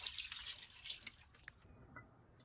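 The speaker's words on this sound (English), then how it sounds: "Here I'm washing it with salt, lime, and vinegar." Running water splashes and trickles briefly over a raw turkey being washed with salt, lime and vinegar, then fades into a few faint drips and light handling sounds.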